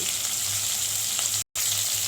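Pieces of katla fish fry in a pan with a steady, close hiss of sizzling oil that stays even throughout, broken only by a very brief silent gap.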